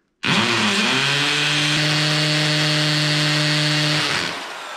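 A rotary power drill drills pilot holes for mounting a compact bender to the floor, its motor whining up abruptly and holding a steady high-pitched buzz for about four seconds before slowing down, close and alone.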